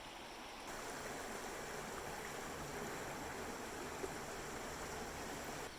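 The Yakima River flows under a bridge near its confluence with the Cle Elum River, a soft, steady broadband rush of moving water heard at a distance with no other sounds.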